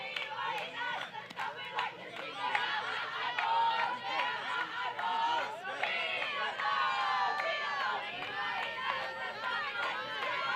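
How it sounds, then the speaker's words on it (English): Spectators in the Southeast High School Lady Noles section cheer and shout at a high school softball game against the Bayshore Bruins, a steady wash of voices and shrieks that swells and stays fairly loud throughout, with chatter mixed in. "The cheering from the Southeast section."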